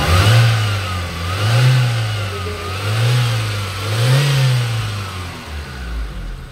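Mitsubishi Lancer with a 4G92 engine revving smoothly, close by, with a steady idle that rises and falls in several even, rhythmic swells.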